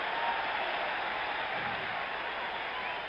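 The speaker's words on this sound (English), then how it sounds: "This Yankee crowd will be roaring all night long with every single out." A Yankee Stadium crowd at the 1977 World Series Game 6 between the Dodgers and Yankees cheers after an out, a broad, distant, sustained roar heard faintly through an old broadcast.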